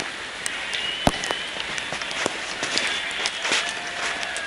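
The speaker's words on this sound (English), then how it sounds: "That's the end because it's raining too heavy." Heavy rain pours steadily, a dense hiss of drops with a few sharper taps and splashes close by.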